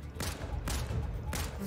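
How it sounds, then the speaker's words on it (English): Video game gunfire: three bursts of shots cut in at even intervals, close and fairly loud, amid low background game noise. "Stop shooting me!"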